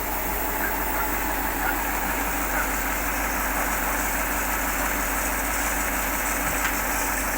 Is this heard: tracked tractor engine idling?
yes